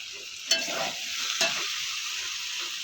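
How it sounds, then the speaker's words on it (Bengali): Spice paste and young jackfruit sautéing in a pan for a Bengali curry, a steady hiss of frying broken by two sharp scraping stirs, close and fairly loud with no voices. "মশলা আর এঁচোড় একদম পুরো কষানো হয়ে গেছে"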